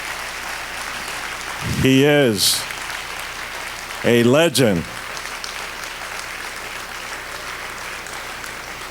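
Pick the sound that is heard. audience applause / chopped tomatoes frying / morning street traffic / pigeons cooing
audience applause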